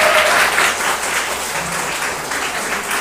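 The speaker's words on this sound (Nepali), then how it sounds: "सम्पूर्ण नानीहरूको लागि जोरदार ताली बजाइदिने म विनम्र अनुरोध गर्दछु।" An audience gives steady, loud applause at a village panchayat ceremony honoring meritorious schoolgirls. Dense clapping fills the whole stretch without pause.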